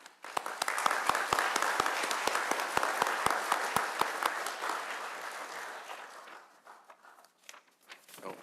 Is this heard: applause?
yes